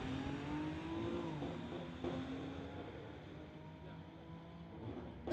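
Street-legal Honda and Infiniti drag cars at a quarter-mile strip give a fairly distant, steady engine drone with rising revs, a brief surge near the end, and faint crowd or announcer noise underneath.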